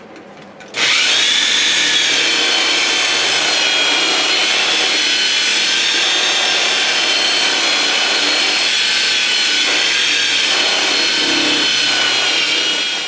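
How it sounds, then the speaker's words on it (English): Power buffer with a finishing bonnet running a finish buff on a Jeep YJ body, a steady loud whirring hum that starts abruptly and holds constant with slight load variations, close and alone. "I'm going to go ahead and put on my finishing bonnet. And we're going to give it our finish buff."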